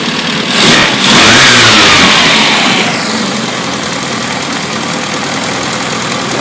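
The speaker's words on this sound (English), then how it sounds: "Let me just come over here and quickly fire it up." A Mini Cooper 1380cc engine on a test stand, fitted with a test alternator and test exhaust, cranks and fires, then revs up loudly before settling into a steady, even idle, with no talk over it.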